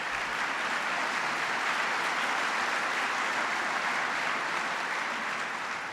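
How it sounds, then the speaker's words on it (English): Applause from an audience at a clean energy speech by President Obama, a uniform, sustained roar of clapping with no breaks, fading slightly at the very end. "that's worth applause"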